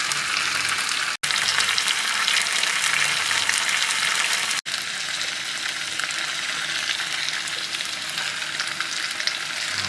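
Ayam percik chicken pieces fry and get turned in a pan, producing a loud, dense, continuous sizzle with two abrupt brief breaks.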